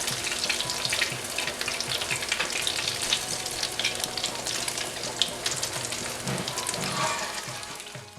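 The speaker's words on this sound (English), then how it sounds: "tips first I would like to give you in frying these corn cheese balls" Corn cheese balls sizzle and crackle continuously in hot oil, a dense, steady frying hiss with occasional louder pops, no voices.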